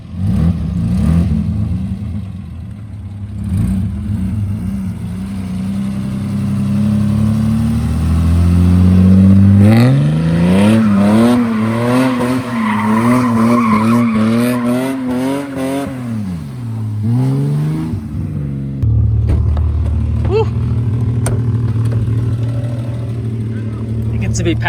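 Cars drift on bagged suspension, with an engine climbing and falling through hard revs and possible brief tire scrubbing, loud and close, while people talk and shout nearby.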